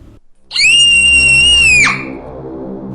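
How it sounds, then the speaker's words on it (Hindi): A girl's high, sustained scream of horror in a dark horror story, loud and close, holding one shrill pitch for over a second before breaking off into a low background hum. "सारा की चीख से रमेश और अनीता की नींद टूट गई।"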